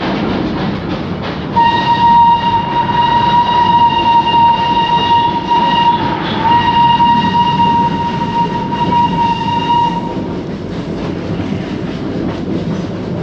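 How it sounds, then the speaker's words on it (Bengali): The Darjeeling toy train pulls out of Darjeeling station, its loud, sustained horn blaring for about eight seconds over the rumble and clatter of the carriages close by. "আমাদের ট্রেন ছেড়ে দিল দার্জিলিং স্টেশন"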